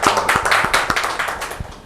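Audience at a community awards program in a hall clapping together, dense brisk applause close and steady for a couple of seconds.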